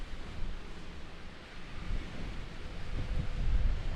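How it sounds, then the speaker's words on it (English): Gusty wind buffets an outdoor microphone in a stormy setting, a close low rumble that swells and rises toward the end, with no voices. "Try to get me and the camera out of the wind so much."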